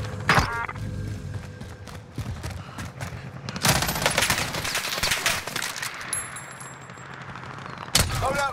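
Hostile gunfire in the Warzone battle royale game: bursts of rapid shots cracking out in clusters with metallic clangs and dings, moderately close and loud, no voices.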